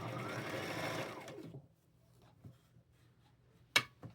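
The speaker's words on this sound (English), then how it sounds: "we're going to sew all the way down the leg" A sewing machine runs steadily for about a second and a half sewing down the leg seam of pants made from a tablecloth, then slows and stops, followed by faint clicks and a brief sharp tap.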